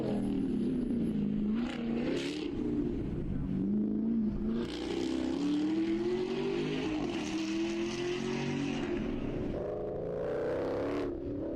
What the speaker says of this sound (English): I hear him doing some gear changing.